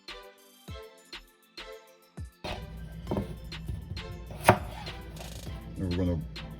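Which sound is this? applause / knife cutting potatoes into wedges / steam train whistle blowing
knife cutting potatoes into wedges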